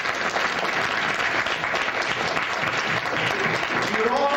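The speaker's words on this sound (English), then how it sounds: "Let's give ourselves a round of applause." A crowd at a community walk event gives sustained, even applause that stays loud and dense from start to finish, with a faint murmur of voices underneath.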